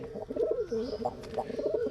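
A female Gainji pigeon coos up close, a low throaty rolling call repeated in several pulses with no voices over it.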